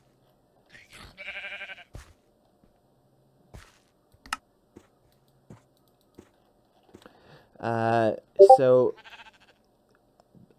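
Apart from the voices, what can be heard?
bighorn sheep bleating in a video game mod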